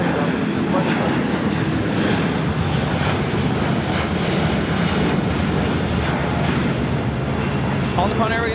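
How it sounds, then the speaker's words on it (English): An All Nippon Airways Boeing 787-9 Dreamliner takes off at LAX with a loud, steady jet engine roar that stays broad and continuous throughout, and voices talk over it. "All Nippon Airways Flight 5 taking off to Tokyo Narita on the 787-9 Dreamliner"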